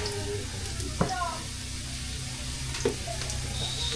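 Food sautéing in a pan with a steady sizzle under a low background hum, broken by a couple of sharp clinks from stirring or utensils.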